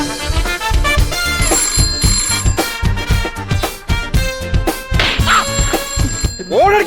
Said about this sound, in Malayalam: എത്ര നേരം കൊണ്ട് ഫോൺ ബെല്ലടിക്കാണ്?